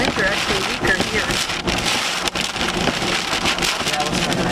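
Hail falls during a severe storm in northern Oklahoma, a dense, steady hiss and patter of stones hitting surfaces, loud and close, with wind noise buffeting the microphone and a voice speaking over it.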